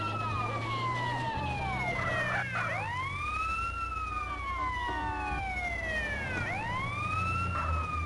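Wailing ambulance siren from GTA San Andreas Definitive Edition, rising and falling in long sweeps over a steady low engine rumble, loud and close, with no talk.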